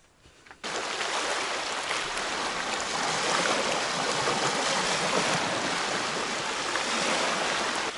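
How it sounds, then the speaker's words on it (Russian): Choppy waves roll and wash steadily on a river during a rainy outing, a loud, continuous broadband surge that starts abruptly and holds without pause. "На реке поднялась волна"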